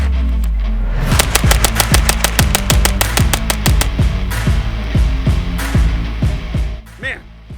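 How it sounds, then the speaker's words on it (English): Rapid string of rifle shots from a Strybog carbine fitted with a budget 1x prism optic, about twenty sharp reports fired in quick succession at close range, loud and steady, ending in a brief pause with a faint clink. "Let's go ahead and waste these last few rounds"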